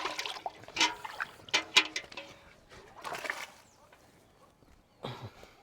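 Milk squirts into a pail as a cow is hand-milked, irregular wet spurts and trickles in uneven bursts while people talk nearby.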